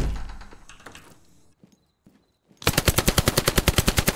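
Weapons in the video game Zero Hour: a few sharp shots and scattered clatter, a brief near-silent gap, then a loud, rapid, evenly spaced burst of automatic gunfire to the end.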